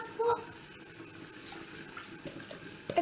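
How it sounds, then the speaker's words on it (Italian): Tap water runs in a kitchen while octopus and artichokes cook, a soft steady splash at moderate level with faint clinks of cookware over it. "Facciamo andare un po' d'acqua"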